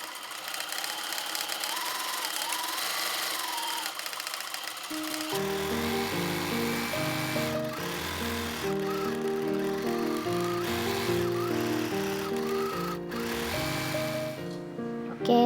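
Sewing machine stitching fabric scraps, joining a cover with right sides together and rounded corners. The motor whirs in a steady rapid run, close and moderately loud, under a melodic music background.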